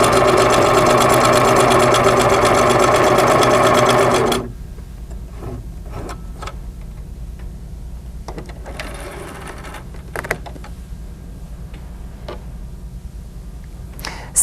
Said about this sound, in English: You can see I'm gently moving the fabric and pivoting it as I'm sewing.